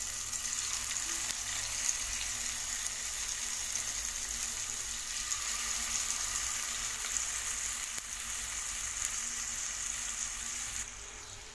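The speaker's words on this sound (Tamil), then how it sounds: "ரெண்டு நிமிஷம் மீடியம் ஃப்ளேம்லேயே வச்சு ஃப்ரை பண்ணிக்கோங்க" Masala-coated chicken frying in hot oil in a pan over a medium flame, giving a steady, close sizzle that carries on without a break and with no voices.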